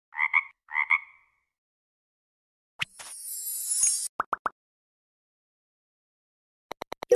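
A cartoonish frog croaks twice in quick succession, followed after a pause by a splash and a few short plops and clicks, all set against silence.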